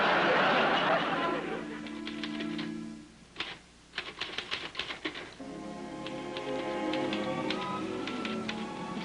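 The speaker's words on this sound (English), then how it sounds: "been at that typewriter now for about 2 hours" Rapid clacking keystrokes of a manual typewriter patter in an irregular burst at close range, sitting among a sustained tonal background sound in a 1950s sitcom household scene.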